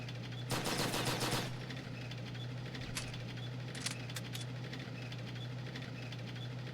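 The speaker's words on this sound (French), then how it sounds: "Ennemi en vue. Purée, il me mitraille." A short, loud burst of rapid enemy machine gun fire in a first-person shooter game, followed by a few scattered sharper shots over a steady low engine-like hum.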